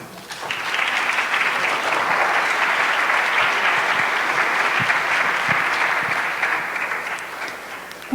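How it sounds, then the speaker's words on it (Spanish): An audience at a university event gives a speaker a strong, sustained round of applause, dense and even for about seven seconds before tapering off. "Démosle un fuerte aplauso."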